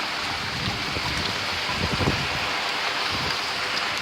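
Steady heavy rain falls outdoors during Hurricane Harvey, with wind mixed in. The rush is dense and constant throughout, with a slight swell near the middle.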